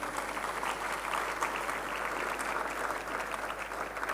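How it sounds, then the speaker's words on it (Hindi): Attendees at a diocese youth meet welcome address clap together in a hall, a fairly quiet, steady wash of many hands applauding evenly, over a low constant hum, with no talking. "हम लोग जोरदार तालियों के द्वारा एक दूसरे का स्वागत"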